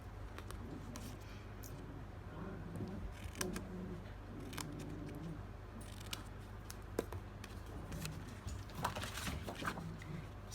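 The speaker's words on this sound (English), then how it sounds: "Cut straight along that line" Scissors cut straight lines through paper for a greenhouse explosion box craft, giving quiet, close snips and rustles that repeat irregularly over a faint steady hum, with no voices.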